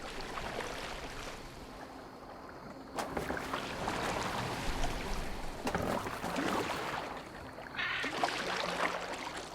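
Boat being rowed across open water in Assassin's Creed Valhalla, a steady wash of water and wind noise throughout with swells of louder splashing, no speech.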